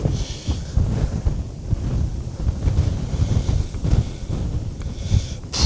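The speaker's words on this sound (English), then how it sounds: "Proper windy." Strong gusts buffet the microphone outdoors on a farm, a loud rumbling roar that rises and falls in uneven waves with no speech.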